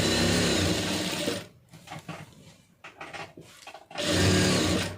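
A sewing machine runs loud and close as it stitches around the edge of a lined blouse, its whirring drone stopping for a stretch of softer, broken handling noises and then starting up again.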